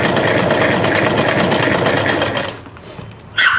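A sewing machine stitches a bag made from a wheat flour sack, giving a fast, steady mechanical rattle up close for a couple of seconds before it slows and stops.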